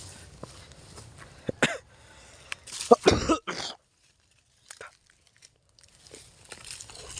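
A person coughs a few times close by, harsh bursts with rustling and quiet gaps between them.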